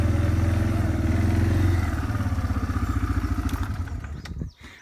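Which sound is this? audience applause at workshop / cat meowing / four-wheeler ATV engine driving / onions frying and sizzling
four-wheeler ATV engine driving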